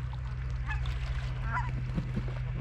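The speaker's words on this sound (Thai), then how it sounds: "อันนี้ห่านเนี่ยหัวดำๆนี่นะหัวดำๆนี่ห่าน" Black-headed geese honking outdoors on a snowy day, a few faint, scattered honks heard at a distance over a steady low hum.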